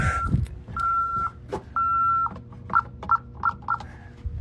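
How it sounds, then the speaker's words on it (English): An electronic alarm beeps loudly nearby, first in a few long steady tones and then in quick short pulses, over a low background rumble. "that's the alarm going off"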